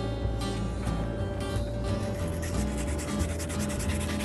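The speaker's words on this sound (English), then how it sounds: "and then I'll sand the foot up." A horse's front hoof is sanded by hand after finishing with a rasp, pressing hard in small, fast circles: a continuous, loud, close-up abrasive rubbing with steady rhythm and no pauses.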